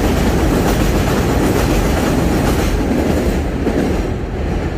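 An elevated subway train rumbles past close by in Jackson Heights, Queens, a loud steady roar with rhythmic clatter of wheels on track, gradually easing at the end.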